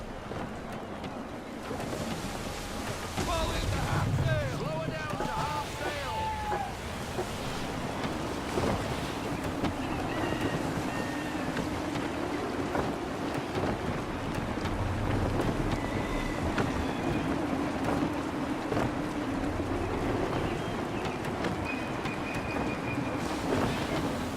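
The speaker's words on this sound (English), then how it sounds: "Wind looks to be shifting. Stay alert, Connor. Gusty winds can be difficult to manage." Wind gusts at sea from a sailing ship in Assassin's Creed 3, with a steady rushing roar, washing waves, creaking timbers and scattered thuds, no talk.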